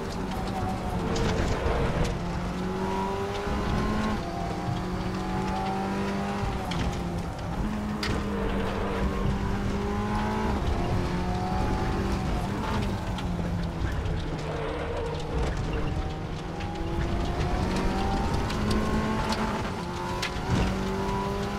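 A front-engined Audi TT Cup 2015 race car in RaceRoom at Oschersleben revs up through repeated gear climbs, its engine note rising and dropping in steady cycles, loud and close throughout.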